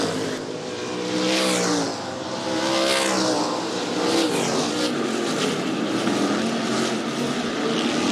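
Sprint cars racing on a dirt speedway at a season opener, loud engines roaring and revving past close by, swelling and fading as cars pass, then a sustained high drone of the field.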